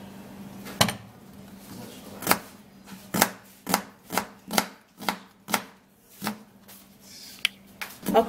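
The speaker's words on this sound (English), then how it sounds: "After that, then we'll have to be cutting the onion." Knife chopping an onion on a cutting board, a series of sharp, distinct thuds at an irregular rhythm, close and clear with a low background hum.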